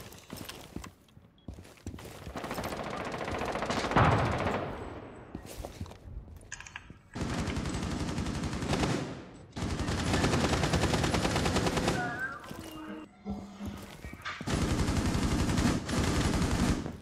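Bursts of gunfire in a video game, rounds fired at the ground in several loud, sustained volleys separated by short pauses, with rapid repeated shots and no talking.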